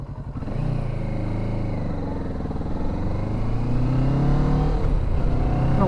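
A Kawasaki Ninja 650 engine drones loud and steady while being ridden on the road, its pitch climbing gradually as the rider accelerates, no voices over it.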